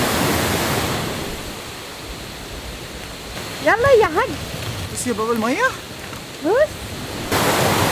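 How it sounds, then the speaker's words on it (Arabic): Waterfall water pours down from a height in the Alps of Germany, a steady broadband rush running throughout, with people talking briefly over it in the middle. "تخيل معايا كمية المية اللي نازلة من فوق دي"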